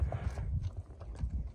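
A Kyrgyz horse's hooves clip-clop in a quick, uneven series of soft thuds, faint and somewhat distant, with no talking over them.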